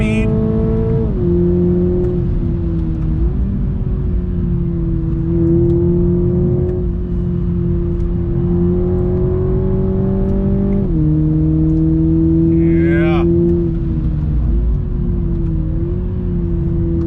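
A 2021 Toyota Supra 2.0 engine hums loudly and steadily, its pitch dropping at each shift of the 8-speed gearbox, then climbing again as the car accelerates, with an occasional higher whine.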